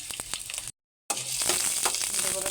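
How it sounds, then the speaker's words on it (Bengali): Onion, green chili and garlic fry in hot oil, giving a bright crackling sizzle that breaks off for a moment of silence and then comes back louder and denser. "এখানে এখন আমি পেঁয়াজ, কাঁচামরিচ, রসুন দিয়ে দিচ্ছি। এটা আমি সুন্দর করে একটু লাল লাল করে ভেজে নিব।"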